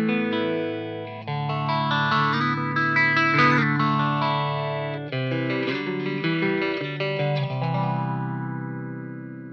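Clean electric guitar through a phaser pedal, strummed chords with a sweeping, swirling wash that rises and falls, ringing out alone and fading at the end.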